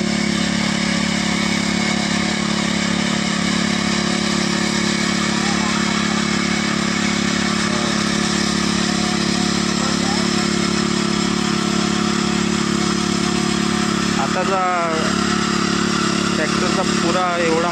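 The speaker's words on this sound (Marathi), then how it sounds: "आमचे आदित्य भाऊशीच ट्रॅक्टर चालवत आहेत" A tractor engine runs steadily while ploughing a paddy field for rice planting, a continuous mid-pitched drone held throughout, with people talking faintly over it.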